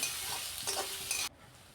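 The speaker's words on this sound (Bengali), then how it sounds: "এবার দেব কুচিয়ে রাখা পেঁয়াজ, সামান্য লবণ দিলাম, এতে করে পেঁয়াজটা ভাজবো" Chopped onions with a pinch of salt frying in a pan for a stuffed-brinjal dish, a steady close broadband sizzle with a few stirring scrapes, cutting off abruptly near the end.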